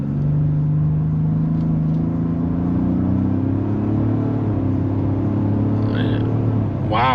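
A 2024 Ford F-150 Platinum Plus Hybrid truck accelerating from inside the cab, a steady deep engine drone that rises slowly in pitch, loud and continuous, with a brief faint chirp near the end.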